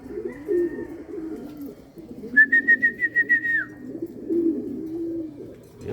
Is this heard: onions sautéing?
no